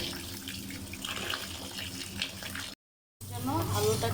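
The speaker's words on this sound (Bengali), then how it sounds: "এগুলোকে এখন আমি ধুয়ে নেব।" Chickpea dal rinsed under a running kitchen tap, a steady close splash of water into a bowl in the sink that briefly cuts off, then returns with sloshing and rattling of the grains.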